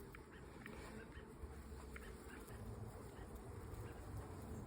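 Italian honeybees buzz around a hive frame holding a little comb during a hive inspection, a steady close drone with no break throughout.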